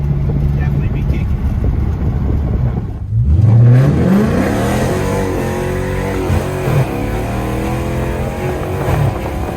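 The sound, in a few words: 2016 Dodge Charger RT engine with JBA mid pipes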